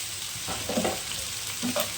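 Chopped raw onions, lightly salted, fry in a pan with a steady close sizzle and a few soft stirring scrapes, no voices.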